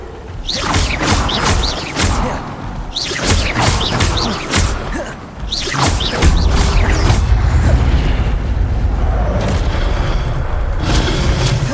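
The Levioso levitation spell goes off in Hogwarts Legacy on PC: a run of booming, whooshing magical bursts with mechanical creaks, followed by a steady rumbling drone.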